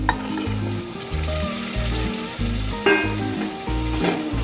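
Chopped cluster beans (guvar) drop into a hot pan for guvar dhokli shaak and sizzle steadily, with light stirring scrapes under a continuous musical backing.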